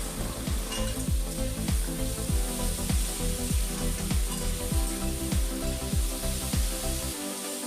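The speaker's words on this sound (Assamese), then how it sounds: "তাৰপিছত আমি এইখিনি ভালদৰে লাৰি থাকিম" Chicken masala fries in a pan with salt and turmeric as a spoon stirs it, giving a steady loud sizzle broken by regular scraping strokes roughly every half second, with no talking.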